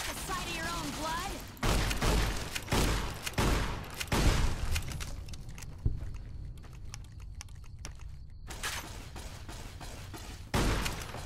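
Laser weapons firing in Fallout New Vegas: several bursts of rapid crackling shots come in clusters, with quieter gaps between them, and a voice is heard speaking over parts of the exchange.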